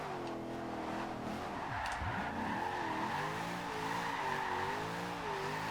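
A V8-swapped Mazda MX-5 in Forza Horizon 2 drifts with a revving engine whose pitch rises and falls, while its tires squeal loudly and steadily throughout.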